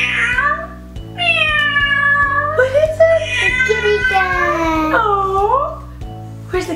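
A cat meows several times in drawn-out, wavering cries, loud and close, with a low steady hum underneath.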